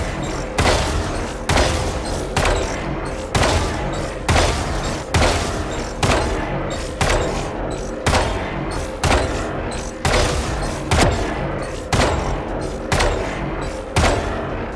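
Rapid, loud gunfire from the tactical shooter Valorant rings out in repeated bursts, each volley of shots separated by brief pauses, close and punchy throughout.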